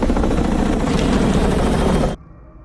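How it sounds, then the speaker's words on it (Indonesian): A helicopter closes in with a loud, continuous rotor thump and engine roar. It cuts off abruptly near the end, leaving a faint hum. "terdengar suara helikopter mendekat"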